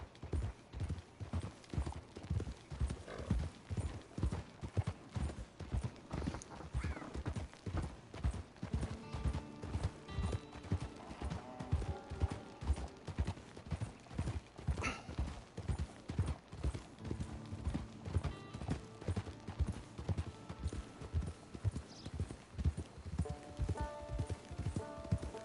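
Steady, rhythmic clip-clop of horse hooves on a trail in Red Dead Redemption 2, a continuous trotting beat that runs throughout, with faint creaks of tack and quiet ambient tones behind it.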